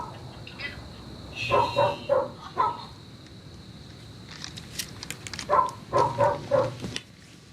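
A dog barks in two separate flurries of several rapid, fairly close barks, with a quiet stretch between them.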